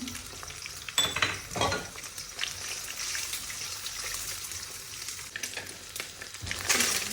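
Beaten egg frying in a pan for a dish made with leftover rice, with a steady close sizzle broken by scraping stirs and light pan clatter and no voices.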